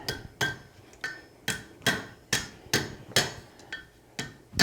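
Hot steel prongs of a forged meat hook being bent by hammer blows: about ten sharp, ringing metallic strikes at a steady, slightly uneven pace, close and clear with no talking.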